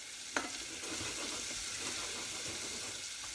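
Chopped onions and garlic with a pinch of salt sizzling in a pan for pea and mint soup, a steady close frying hiss with a faint tap near the start and no voices.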